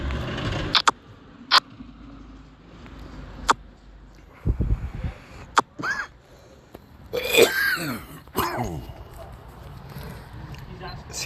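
A man coughs and clears his throat in sharp isolated bursts spaced a second or two apart, close to the mic, with talking in between.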